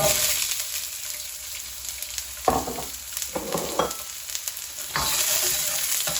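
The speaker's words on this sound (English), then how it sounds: "I'm just going to cook these onions for maybe a couple of minutes." Onions stir-fry in a hot wok for a Chinese takeaway-style chicken and mushroom dish, a steady close hiss of sizzling broken by several scraping bursts of stirring.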